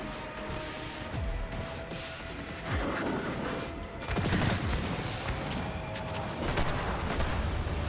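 Rapid automatic gunfire from a submachine gun in the sci-fi shooter Destiny 2, dense sustained bursts layered over explosions and game effects, loud and continuous throughout.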